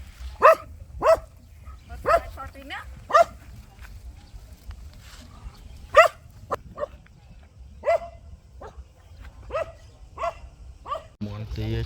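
Several dogs bark on a farm in a jujube orchard at sunset, giving about a dozen sharp, fairly close barks in an uneven rhythm over low background rumble.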